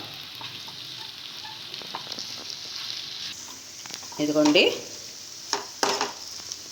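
Coconut chili powder frying in oil in a pan: a continuous close sizzle with occasional scraping stirs, a brief burst of metallic clatter midway and a couple of sharp clinks near the end, with a short spoken word.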